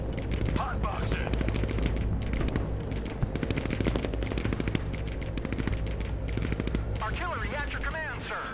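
Continuous machine gun fire and scattered gunshots in the real-time tactics game Broken Arrow, dense and steady under a low rumble, with voices talking over the battle.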